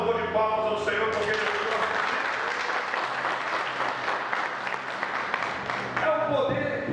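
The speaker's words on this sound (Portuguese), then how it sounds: "Você pode dar um louvor de palmas ao Senhor" A church congregation claps in praise to the Lord, sustained dense applause filling the hall for about seven seconds, with a voice talking over it and music or tones underneath.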